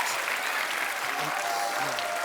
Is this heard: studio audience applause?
yes